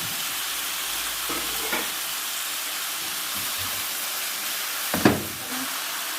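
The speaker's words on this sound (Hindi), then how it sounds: "तकरीबन 1 से 2 मिनट के लिए इन अनियंस को हम लोग फ्राई कर लेंगे।" Onions and bell peppers fry in a pan with a soft, continuous sizzle, broken by a couple of brief scraping stirs, the clearest one near the end.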